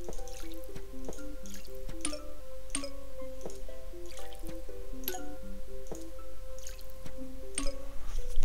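Watering a plant in the Zen Garden of Plants vs. Zombies: a steady stream of bright, regular water-drip plinks with squishy splashes over a constant low hum, no talking.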